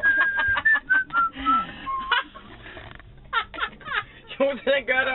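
A person tries to whistle, giving short, breathy, wavering tones broken by pauses, with voices and vocal noises in between.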